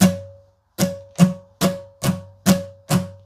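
Acoustic guitar strummed through a song's chord pattern of down, down, up, down, up, down, up, with sharp, evenly paced strokes ringing close and clear and no voices.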